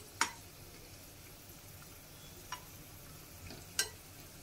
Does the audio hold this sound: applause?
no